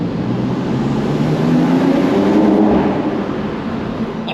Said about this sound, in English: Let's put the windows down, see if you can hear that intake sound.